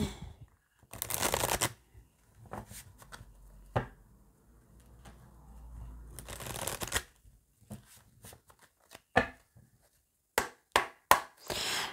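A deck of oracle cards is shuffled in several separate bursts of crisp, close riffling and flicking, with quieter gaps between them and sharp taps near the end.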